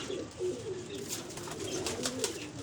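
Soft, fairly faint cooing comes from highflyer pigeons kept at a pigeon club, in a few short, irregular bursts against light background noise.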